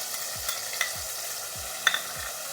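White mustard paste goes into a frying pan and is stirred, with repeated scraping strokes and occasional clinks of the utensil over a soft, low sizzle.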